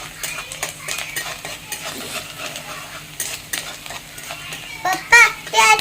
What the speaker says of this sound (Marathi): मॅगी शिजत आहे आणि इकडे आम्ही कांदा परतून घेत आहोत मस्तपैकी